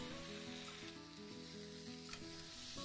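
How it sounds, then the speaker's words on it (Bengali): Marinated prawns dropped into a pan of softened onions sizzle and crackle steadily for the whole stretch, close and continuous, with some faint tonal sound underneath. "এখন ম্যারিনেট করে রাখা চিংড়ি মাছগুলো দিয়ে দেব।"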